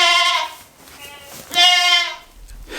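Goats bleat loudly and close by in two drawn-out, wavering calls separated by a short pause, with faint background sounds between them.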